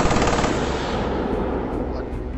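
An attacking Bf 110 fighter fires its machine guns in a B-17 Queen of the Skies game, a loud dense burst of rapid gunfire that rattles on unbroken at close range.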